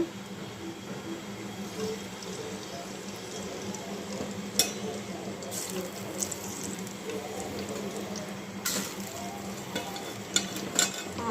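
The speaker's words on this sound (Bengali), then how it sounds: "এখন ভেজে নিব হলুদ তেলটা আমার গরম হয়ে গেছে" Pieces of baim fish (eel) rubbed with turmeric and salt sizzle steadily in hot oil, a continuous close crackling with occasional sharp pops and a faint clink.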